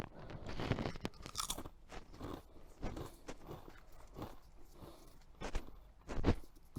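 Irish cheese and spring onion potato chips crunched close up, with a run of irregular crisp bites and chewing crunches at low volume and no talking.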